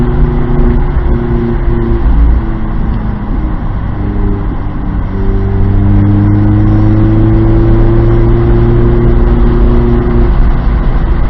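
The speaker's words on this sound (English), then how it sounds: "I love that exhaust I installed a week ago. It sounds so good." A Mazda Miata track car's engine roars loudly and continuously at speed on a racetrack, its aftermarket exhaust note climbing and shifting through gears, close up with no voices.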